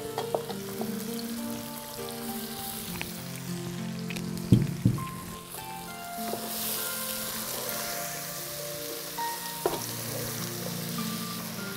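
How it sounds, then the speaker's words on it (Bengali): Spice-coated boiled jackfruit pieces fry in a pot for biryani, giving a steady close sizzle with occasional stirring clatter and spitting pops. "এবার দিয়ে দেব এই যে মশলা দিয়ে মেখে রাখা কাঁঠাল।"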